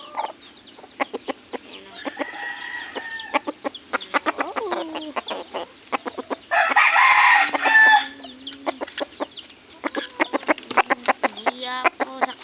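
Chickens cluck in busy, irregular bursts close by, with a loud rooster crow rising in the middle; a person speaks a few brief words.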